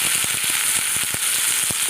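A bright, constant sizzle of onions frying in a pan, with soft crackles and pops scattered throughout, close and steady.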